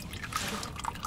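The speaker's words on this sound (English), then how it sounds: "Let it drain by itself until it completely drains." Engine oil drips from a removed oil filter on a Lincoln, a few quiet, close liquid drips over a soft background hiss.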